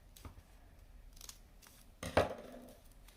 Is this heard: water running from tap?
no